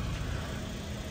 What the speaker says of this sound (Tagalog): Yung makina niya, nakaandar yan guys, pero napakatahimik.